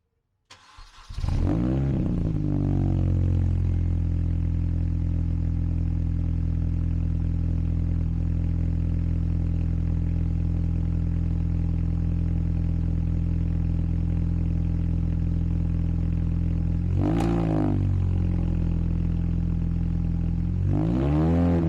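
A MINI's engine cranks and catches, then idles steadily and loudly after an exhaust manifold repair, with a brief blip of revs later on and no talk.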